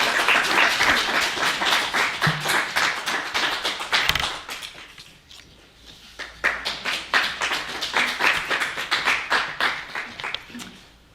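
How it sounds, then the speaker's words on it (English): Audience applause for a mid-year foundation program graduating class, dense sustained clapping from many hands that dips briefly near the middle before swelling again, no talk over it. "A clap for everyone, I think."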